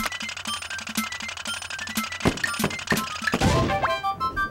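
An explosion as a tank is destroyed in the Wii Play Tanks video game, a sharp burst with a crackling tail following a run of repeated game thunks and pops, with electronic tones ringing above.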